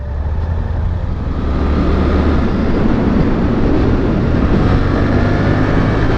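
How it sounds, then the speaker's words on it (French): Suzuki GSX-8S motorcycle engine dropping down to fourth gear on the road, a loud steady drone blended with heavy wind rush, no speech. "On rétrograde tranquille en quatrième toujours"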